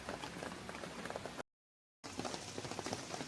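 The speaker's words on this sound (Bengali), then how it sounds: "আর কি জোরে বৃষ্টি, এই বৃষ্টি থামছে না, দেখাচ্ছি আমি এখনই।" Heavy rain pours down on a street in Munnar, a thick continuous hiss of falling water that cuts out briefly in the middle before resuming at full strength.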